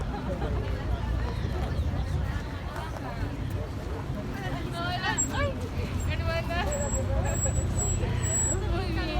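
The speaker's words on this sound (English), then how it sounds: "it is a traffic jam" Congested traffic outside the LDS temple in Cumbaya, Quito, Ecuador: a continuous rumble of idling vehicles and engines mixed with a busy crowd murmur, with people talking throughout.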